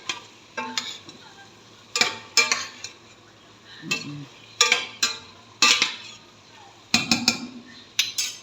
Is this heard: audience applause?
no